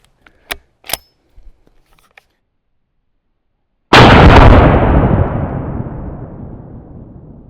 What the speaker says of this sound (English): Let's see what it does when it's hit with the 450 Bushmaster.